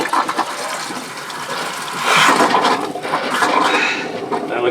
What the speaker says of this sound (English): I guess we should flush the toilet to make sure it runs pink also.